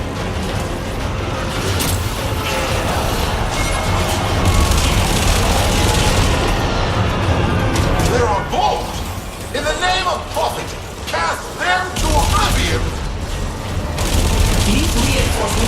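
Turret fire in the sci-fi shooter Warframe during a Railjack space battle, a dense, sustained barrage of booming shots and bursts layered over game music and effects, with a voice talking over parts of it.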